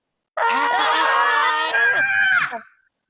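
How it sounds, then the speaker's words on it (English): A loud, shrill scream rises abruptly from silence, holds for about two seconds with a brief wavering break, then trails off. "they run away, screaming"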